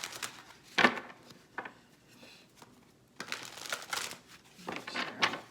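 A deck of tarot cards being shuffled by hand, giving several soft bursts of riffling and crinkly card friction separated by brief pauses, close and fairly quiet, with no talking.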